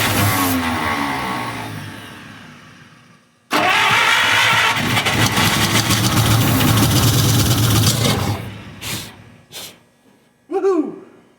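A 1953 Buick Special engine revived after 30 years in storage cranks and fires, roaring loudly, then falls silent, restarts with a rough loud run, and ends in a few short revving bursts and sputters.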